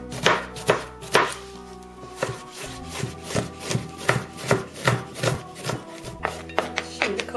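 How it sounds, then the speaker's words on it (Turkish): A knife finely chops onion on a board, close and crisp, with quick rhythmic taps in short bursts separated by brief pauses, sounding alone. "Öncelikle soğanı ince doğrayarak"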